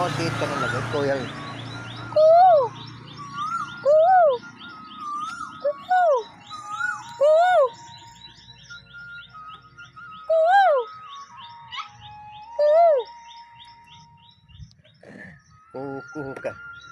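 An Asian koel calls repeatedly, its rising two-note whistles ringing out at regular intervals, with other chirping birds and faint, cool wind in the background.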